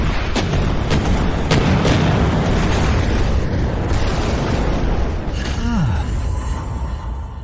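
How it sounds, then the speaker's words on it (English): Cannons fire in a dramatised battle, heavy booms and blasts layered over a dense continuous roar, with a sharp report near the start and a falling whistle-like tone toward the end. "Fire the cannons!"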